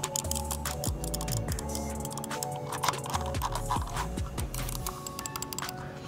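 A Logitech wireless gaming mouse is clicked in rapid irregular bursts of sharp, close clicks, with no talk over them.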